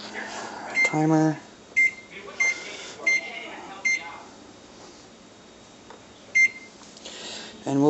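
Short electronic beeps from an oven timer while hot dog buns bake, sounding in a few single and paired chirps spread across the clip, with faint kitchen noise between them.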